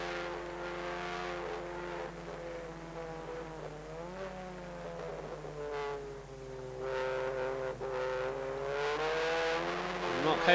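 Onboard engine of Dave Pinkney's race car in the 1988 Uniroyal Production Car Championship, a loud sustained drone rising and falling through gear changes, with a commentator talking over it.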